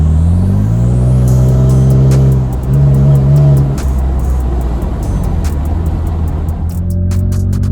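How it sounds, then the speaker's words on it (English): Deep, rumbling exhaust of a third-generation Toyota Tacoma pickup with an MBRP XP turn-down exhaust, rising in pitch under acceleration, heard from inside the cab with a steady engine drone. "we're going to close this video out inside the truck, listening to the exhaust tone"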